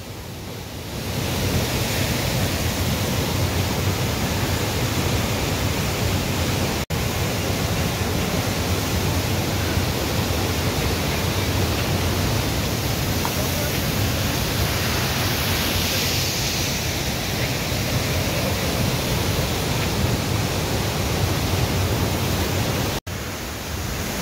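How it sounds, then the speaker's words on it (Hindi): Bhatta Falls, a natural mountain waterfall in Uttarakhand, roars as a dense, steady broadband rush of falling water, loud and close, continuous for the whole stretch with no voices. "ये प्राकृतिक झरने पहाड़ों के सौंदर्य में 4 चांद लगा देते हैं"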